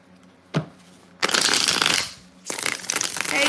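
Tarot cards shuffled at close range: a quick single riffle snap, then two long rushing bursts of cards flapping together, loud and with no talk.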